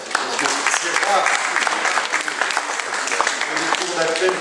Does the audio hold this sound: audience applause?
yes